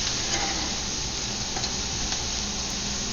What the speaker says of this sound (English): You don't want to be stir frying the broccoli in a dry wok.